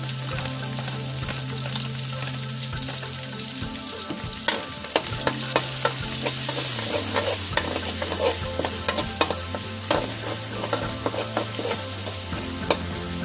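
White onion frying in a pan for spaghetti gives a steady crackling sizzle, with frequent sharp clicks and taps of a utensil stirring against the pan and a faint low hum underneath, no voices.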